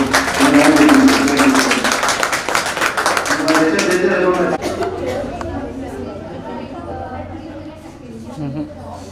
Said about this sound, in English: Big round of applause for them also.